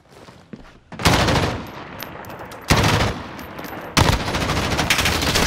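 Loud close automatic gunfire in a video game shootout, with a quiet opening followed by three heavy bursts of rapid shots, each sustained volley breaking off before the next starts.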